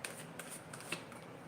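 A deck of cards is shuffled during a yes/no reading, giving faint soft riffling with a few light ticks and snaps, quiet and brief with no voices.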